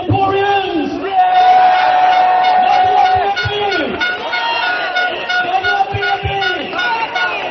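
A rally crowd cheering at a political campaign gathering, loud sustained whoops and shouts from many people with horn-like toots and wavering tones over a dense roar of voices.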